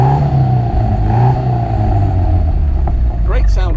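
A deep, throaty stock exhaust burble rumbles steadily from a 1960 MGA 1600 sports car at 4,000 RPM, loud and close, with a brief higher whine near the end.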